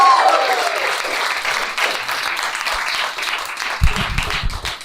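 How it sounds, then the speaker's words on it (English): Audience applause at a stand-up comedy show, a steady wash of clapping from a crowd that swells near the end, with a voice speaking over it briefly. "Please put your hands together"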